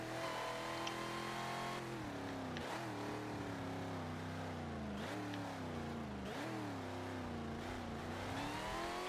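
Dodge nostalgic drag racer in Forza Motorsport 7, its engine droning loudly and continuously with repeated rev swells and dips as it shifts and accelerates, heard up close with no talk.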